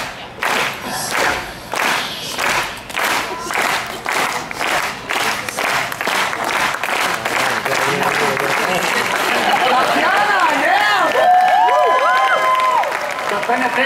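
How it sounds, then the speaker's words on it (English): A theatre audience claps in rhythm, a steady pulse of loud unison claps with cheering, which then dissolves into scattered applause, shouts and whistling-like voices as a performer speaks over the crowd. "A little rhythmic clapping"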